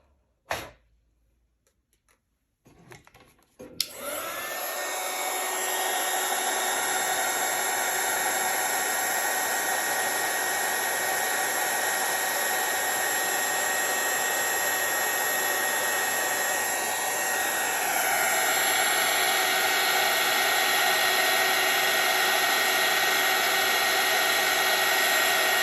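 An electric heat tool runs steadily for over twenty seconds while heat-setting embossing powder on a handmade card, a close, constant high-pitched blowing whine that clicks on after a few seconds of near silence and shifts pitch slightly near the end.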